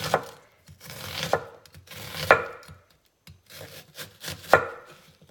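A knife slicing slits into an onion on a cutting board, with a handful of crisp, irregular cuts and soft rubbing between them, close and quiet with no talk.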